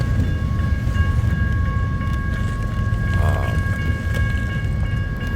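A freight train carrying a Conrail boxcar rolls past during the start of a blizzard in Missouri Valley, Iowa, making a steady heavy rumble with sustained high tonal whines from the railcars, loud and continuous throughout.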